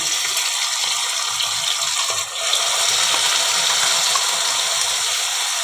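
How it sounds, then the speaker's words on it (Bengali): Water from a rinsed mixer jar pours into a pan of eggplant and spice paste, making a steady close gushing rush with a short dip midway, and no talking. "মিক্সি ধুয়ে একটু জল দিয়ে দিলাম"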